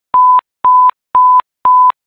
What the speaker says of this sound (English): They will play a Mayday tone that might sound like this.